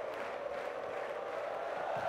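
Spectators in the VIP stand cheer at a beach volleyball semifinal at the Klagenfurt Grand Slam, a distant sustained crowd roar at low level with no distinct voices.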